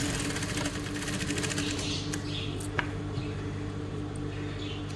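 A sewing machine runs close and steady, stitching a garment seam in a continuous rapid mechanical rattle with a faint click or two and no talking over it.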